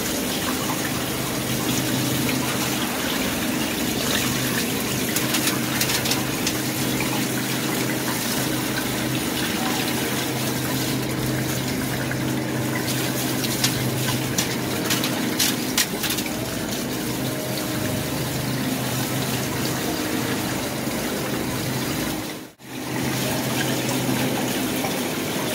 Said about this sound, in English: when you're rinsing, you'll see little pieces of ice floating by